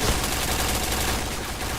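Gunfire in the video game Nobunaga's Katana comes as a dense, continuous burst of rapid shots and explosions, loud and close for the whole moment.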